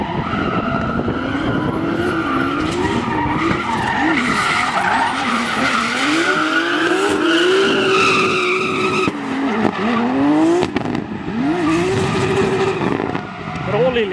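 Drift cars in practice runs at a car meet slide past with long squealing tires and roaring engines, loud and continuous, with revs rising and falling and a commentator talking over them.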